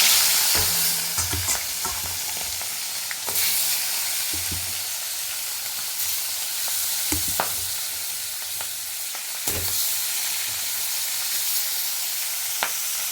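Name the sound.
turmeric-coated pona fish pieces frying in oil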